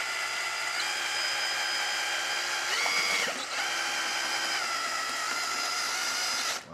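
A power drill spins steadily as it mixes gritty Durabak deck paint, a continuous whining drone with a brief dip and wobble in the middle before it cuts off at the end.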